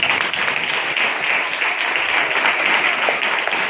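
A church congregation applauds at a Friday sermon, steady dense clapping filling the whole stretch at fairly loud level with no break.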